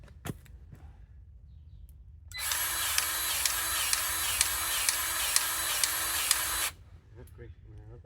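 A grease gun works a fitting on an Avant 220 loader, a loud steady mechanical hiss of about four seconds with faint rhythmic pulses that starts and stops abruptly, with quieter clicks before and after.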